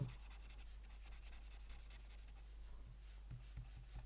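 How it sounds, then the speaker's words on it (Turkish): A pen or marker scratches across a board as a bow-tied figure is drawn, a faint, continuous rubbing scrape over a steady low hum, with a few soft taps near the end. "bakın şöyle bir şey çiziyorum"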